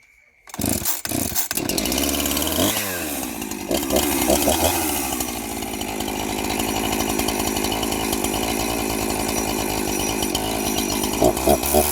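Husqvarna 345 or Stihl MS230C chainsaw starts with a few pull-cord tugs, then roars into a loud, buzzing two-stroke run that idles and revs unevenly right up close for the rest of the clip.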